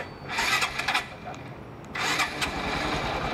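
A Yamaha MSX motorcycle fitted with an anti-theft alarm is started by remote, giving two short bursts of raspy cranking and engine catch, close and fairly loud.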